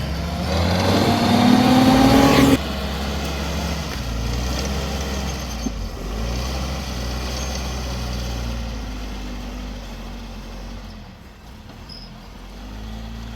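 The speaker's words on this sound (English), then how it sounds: "Takes me a little bit of clutch slipping to go this slow, even though I do have the Terra Low gear set in my transfer case." A Jeep crawls slowly along a sandy trail at Sand Hollow in Terra Low gear with the clutch slipping, its engine droning steadily and close, briefly louder at first before easing into a low, continuous rumble.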